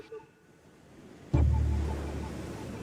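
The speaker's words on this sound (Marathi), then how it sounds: "समुद्र असा फोपाळला होता." Stormy sea waves crashing and rumbling, a heavy surge bursting in partway through after a quieter, windy stretch, then a sustained loud roar of surf.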